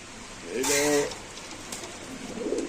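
Racer pigeons give a short burst of soft, throaty cooing close by, followed by quieter low murmuring, with a faint background hiss.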